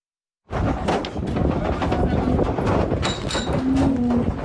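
Dairy cows moo loudly and repeatedly up close on a farm, their deep calls overlapping against a steady outdoor background.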